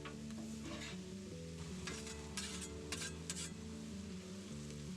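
Ground beef browns in a pan for taco meat, a steady close sizzle and frying hiss running throughout while a utensil stirs and scrapes, with a few brighter scraping bursts along the way.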